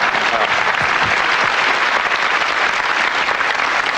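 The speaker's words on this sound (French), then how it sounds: "Je voudrais qu'on l'applaudisse bien fort" A TV studio audience on a 1994 French talk show applauds a magician: loud, continuous, dense clapping that holds steady throughout, with no voices on top.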